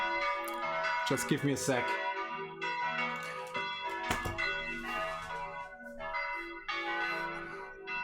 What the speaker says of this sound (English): that's the worst church bells ever